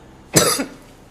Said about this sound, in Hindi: ये अचानक तुम्हें खांसी क्यों हो गई?